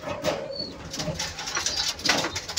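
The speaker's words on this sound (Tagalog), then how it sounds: "May ibon sir." Soft pigeon cooing and chirps sound in a noisy, close setting with a thin whistle-like call near the start; no clear speech.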